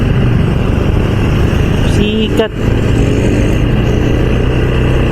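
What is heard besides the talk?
loud motorcycle engine running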